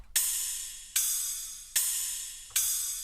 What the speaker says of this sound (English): And each half a bar, it plays like a high-pitched crash.